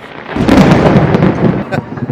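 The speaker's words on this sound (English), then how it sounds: "we're getting a thunderstorm here in the Magic Kingdom" Thunder from an afternoon thunderstorm at Magic Kingdom in Florida, a loud, broad, rolling rumble that swells and crackles for about two seconds, heard outdoors.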